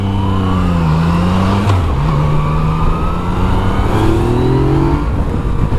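A 2017 Yamaha FZ-09 motorcycle engine revs hard as the rider throttles up, loud and close, its droning pitch climbing and dipping steadily throughout with no talking.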